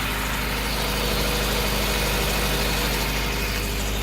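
Turbocharged Ford EF sedan engine idling steadily after being started, a loud, close, continuous low rumble with no talk over it.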